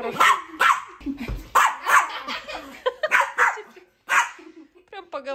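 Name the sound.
dog barking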